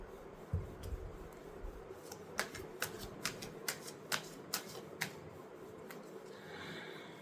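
Tarot cards being shuffled in a run of about ten crisp riffling snaps, close and clear, with no talking over them.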